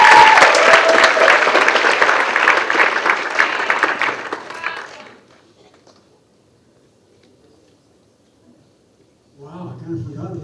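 Audience applause for a speaker at a writers' event, loud and sustained for about five seconds before fading into near silence, with a voice beginning to speak near the end.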